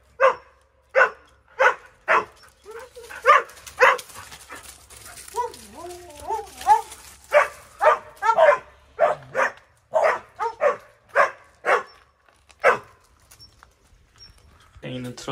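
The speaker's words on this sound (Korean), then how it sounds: "너는 왜 나만 보면 짖니?" A dog barks repeatedly and excitedly up close indoors, with a brief whining, yelping stretch in the middle before the steady barks resume; a person talks at times.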